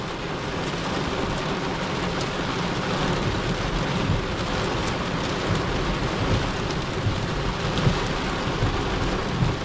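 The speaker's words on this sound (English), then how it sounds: "this rain's coming out really heavy." Heavy rain pours steadily during a thunderstorm in northwestern Ohio, a dense, constant roar of drops drumming close by with faint rumbles of thunder mixed in, no voices.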